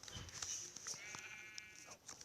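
Synthetic-sounding Minecraft sheep bleats repeat over a steady electronic background hum, with brief quiet speech mixed in.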